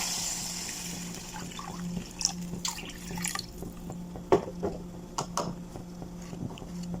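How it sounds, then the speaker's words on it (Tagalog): Water from a pitcher is poured into a soup pan on a home stove, heard as soft, faint splashing and dripping with a few sharper drops and splats, fairly close and without talk. "So, lagyan natin siya ng isang pitchin na tubig."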